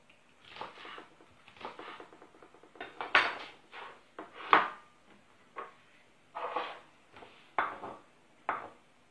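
Onion finely chopped with a knife on a board, a close series of irregular crisp taps and knocks with short pauses between bursts, no talking.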